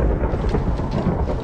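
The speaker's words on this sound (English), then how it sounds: "A little bit of lightning, a little bit of thunder" Deep rolling thunder from a Blood Magic ritual in modded Minecraft, loud and continuous with a rain-like hiss throughout, no voices.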